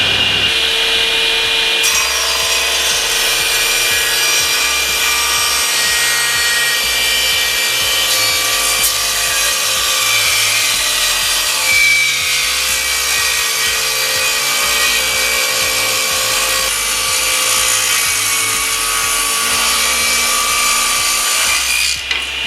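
A 3hp SIP cast iron table saw cuts through wood, a loud continuous high-pitched whine with a steady grinding rasp as the blade works the board.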